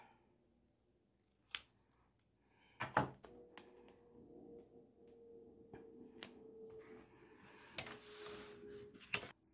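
Scissors snipping a sheet of fall planner stickers at a desk, with a few sharp isolated cuts and paper rustles spaced apart over a quiet background, plus light handling clicks.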